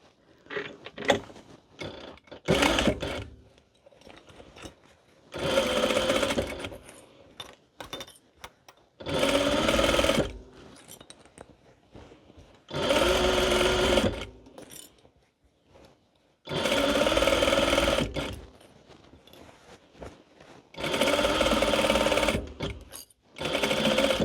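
A sewing machine stitches a fabric infinity scarf in six loud, steady bursts of rapid mechanical whirring, separated by quiet pauses filled with faint handling clicks and rustles.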